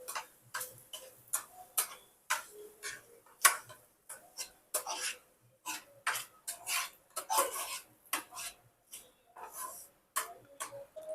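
A spoon scrapes and taps against a pan as semolina (rava) is stirred and roasted with carrot for upma, producing soft, irregular clinks and scrapes at a steady pace, faint and close.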